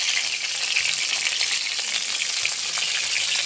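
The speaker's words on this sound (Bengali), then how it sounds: "আস্তে আস্তে জাল দিয়ে খুব আস্তে আস্তে পটলগুলো ভেজে নেব" Pointed gourd (potol) frying slowly in oil over low heat, giving a steady, dense sizzle that stays even and close throughout with no talk.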